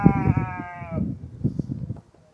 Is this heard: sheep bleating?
yes